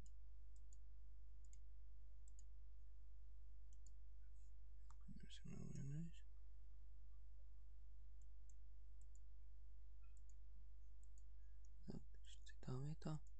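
A computer mouse clicks sparsely, with small faint ticks spread out in quiet room tone, during Photoshop Clone Stamp editing; someone speaks briefly in two short stretches.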